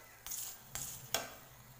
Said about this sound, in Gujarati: એક સાઈડથી શેકાઈ ગઈ છે તો આપણે એને બીજી સાઈડ પણ શેકી લઈશું બરાબર. તો ત્યાં પણ થોડું થોડું તેલ લગાવી દઈશું.